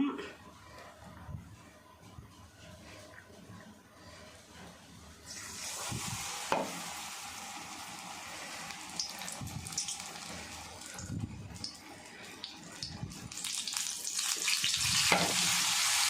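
Bajji batter dropped into hot oil, starting quietly and then bursting into a loud steady sizzle and crackle that builds toward the end, with a voice talking over it and occasional utensil clinks.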